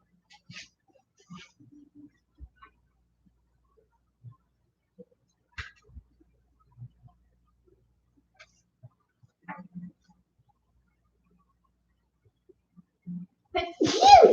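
A single sharp sneeze bursts out near the end, after a stretch of near-silence broken only by faint small clicks and rustles.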